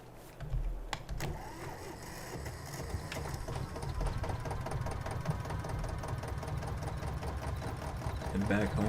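A tractor engine in Farming Simulator 22 runs with a steady mid-low drone and rattling knock throughout, loud and continuous with little change.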